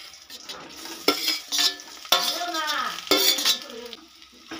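Fried potato and eggplant with crumbled fried lentil dumplings are stirred through oil in a metal pan, with a quiet sizzle underneath and repeated scraping, clanking spatula strokes that come in uneven bursts, close up.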